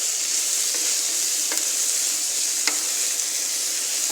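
Sliced bitter gourd frying in a hot pan gives a steady, even sizzle throughout, with a few faint clicks of stirring.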